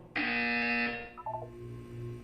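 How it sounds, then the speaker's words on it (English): A loud, sustained electronic buzzer tone in the video game Portal 2 blares for about a second, then cuts off with a few short blips and a low hum beneath. "When you hear the buzzer, look down at the floor."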